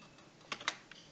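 A few quick keystrokes on a computer keyboard as a terminal command is entered, several clicks clustered together in a short burst, close and fairly soft, with no talking.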